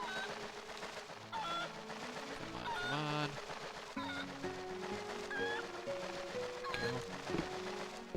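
Chickens in the video game The Legend of Zelda: Twilight Princess, several bright clucks and squawks scattered over steady game music and background sound, fairly faint.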